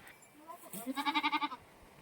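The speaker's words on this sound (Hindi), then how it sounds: "तो ये देखिए बकरी भी आवाज़ लगा रही है" A goat gives a loud wavering bleat, a pulsing vibrato cry close by, preceded by softer calls in a quiet rural setting.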